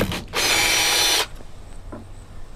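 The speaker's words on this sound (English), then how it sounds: "So I just got a drill with a T15 bit on it" A power drill with a T15 bit whirs up loudly for about a second driving a screw on a Chevy Silverado tail light, then stops, leaving faint clicks and quiet room noise.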